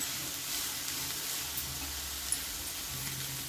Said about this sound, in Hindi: इसे भी हम अच्छे से सॉफ्ट होने तक भून लेंगे 1 से 2 मिनट